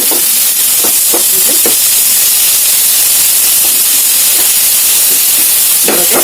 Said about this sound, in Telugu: టమాటో అయితే వేగిపోయింది